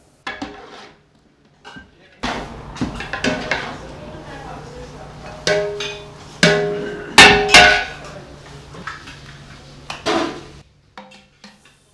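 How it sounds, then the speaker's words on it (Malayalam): Chicken biryani masala stirred in a large pot in a hotel kitchen, giving irregular metallic clanks and scrapes of a utensil against the pot, some sharp and loud, with background kitchen noise and occasional voices. "ബിരിയാണീൻ്റെ മസാല, ചിക്കൻ അതിലേക്കുള്ളതൊക്കെ ചേർത്ത് ഇളക്കിക്കൊണ്ടിരിക്കുന്നു"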